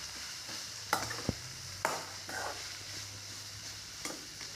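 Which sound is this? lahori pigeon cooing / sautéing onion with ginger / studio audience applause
sautéing onion with ginger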